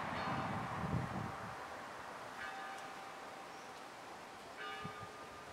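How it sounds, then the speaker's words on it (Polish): Church bell ringing in Staszów, a few distinct metallic strikes heard at a moderate distance, spaced a couple of seconds apart over a steady outdoor background. "Komu bije dzwon?"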